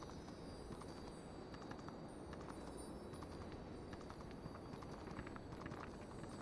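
Quiet, steady clip-clop of horse hooves in the video game BGMI (PUBG Mobile), plodding along at a walking pace, faint and continuous over a hissy background.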